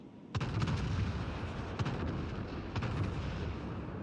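Battleship gunfire in the naval video game World of Warships Legends: a sudden heavy boom followed by further booming salvos over a continuous rumbling roar.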